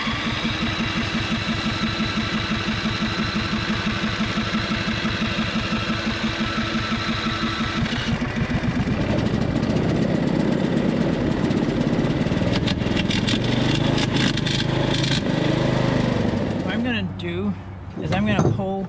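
A Cub Cadet RZT 50 riding mower engine cranks and runs with a rapid, steady rattle, then the note shifts to a rougher, busier running sound before tapering off near the end.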